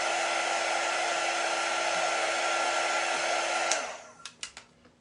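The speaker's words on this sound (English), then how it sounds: "Sometimes I like to heat up my wax a little bit to really make it glide on nice and smooth." A heat tool blows a loud, steady, close whoosh to warm furniture wax, then cuts off abruptly near the end, leaving a few sharp taps and clicks in the quiet.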